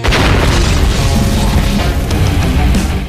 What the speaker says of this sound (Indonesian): juga meledakkan tempat tersebut